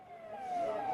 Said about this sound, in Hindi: सायरन की आवाज सुन पा रहे होंगे।